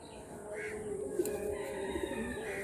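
Madrasi high-flying pigeons coo in a low, steady murmur, with a few fuller calls rising over a constant hum of nearby birds.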